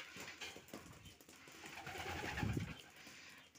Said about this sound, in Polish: To są takie dwa gołębie